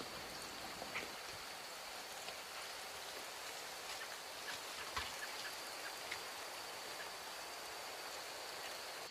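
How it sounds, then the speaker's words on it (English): Steady rain falls in a forest, an even hiss with scattered drops ticking on leaves and surfaces, faint and continuous with no talking. "it's raining now"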